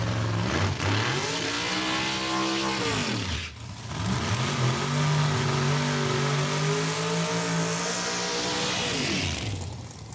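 A drag racing car making a run down the strip at Saskatchewan International Raceway, its engine loud and close, revving up through rising pitch sweeps, a brief drop as it shifts, then a long roar that fades out.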